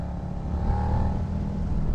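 Suzuki SV650 X motorcycle, a 2007 fuel-injected model, running steadily at about 3500 rpm under open throttle, a continuous close engine drone holding level for two seconds with no speech.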